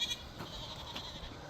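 Goats bleating near a newly fenced pasture, faint and distant under steady outdoor background noise, with no talk.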